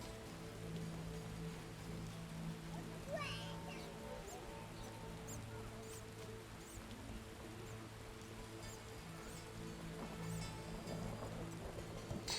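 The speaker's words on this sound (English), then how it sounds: "This rain." Rain falls in The Witcher video game as a faint, steady patter of droplets over a low humming backdrop, with a few brighter taps scattered throughout and no talking.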